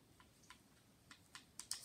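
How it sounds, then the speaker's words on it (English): Faint, sparse keystrokes on a computer keyboard entering a code, a handful of light clicks spread irregularly through a quiet two seconds. "And then you want to type in..."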